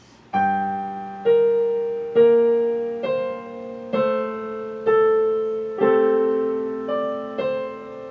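A piano plays one measure: about nine distinct notes struck one after another at an even, unhurried pace, each ringing and fading before the next, clear and close.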